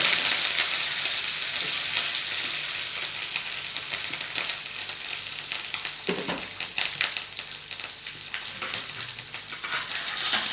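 Steady, loud sizzling of dried red chillies, curry leaves and cumin frying in hot oil, with crackles and pops scattered throughout and an occasional stir, close up.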